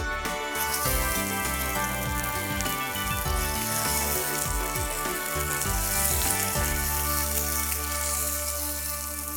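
Fresh sardines sizzling on a hot grill, a continuous crackling hiss sitting under a strong musical background throughout.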